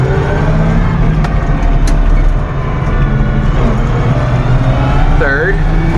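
Car engine of an 86 series revving up and dropping back as it upshifts through the gears, a steady loud drone with brief dips between shifts, recorded from inside with engine noise dominant throughout.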